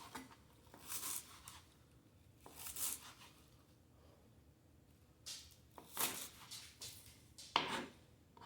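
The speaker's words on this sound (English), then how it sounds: "make sure the end's even and start chopping" Knife chopping fresh herbs into quarter-inch pieces on a board, a series of soft, quick thuds in short bursts separated by pauses, close but quiet with no talking.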